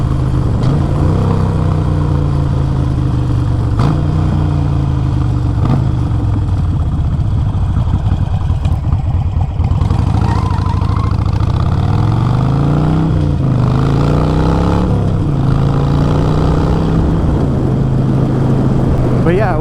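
Harley-Davidson Iron 883 motorcycle accelerating on the road, its engine droning loud and close and rising in pitch through repeated gear pulls, with wind rush and someone talking over it.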